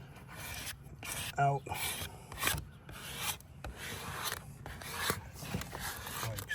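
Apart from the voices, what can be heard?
squeegee rubbing vinyl decal onto truck glass window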